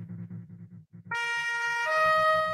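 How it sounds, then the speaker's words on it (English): A police car siren starts up in the Minecraft video game. A steady, loud electronic wail rises and holds over a low rhythmic engine chug, with no talking. "I'm going to hop in this police car."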